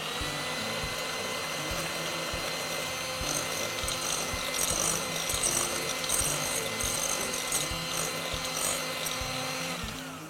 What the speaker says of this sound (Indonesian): Dikasih air panas, di mixer terlebih dahulu.